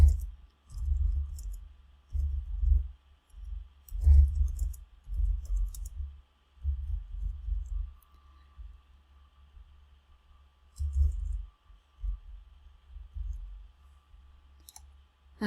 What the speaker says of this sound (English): this time I'm going to type in my string.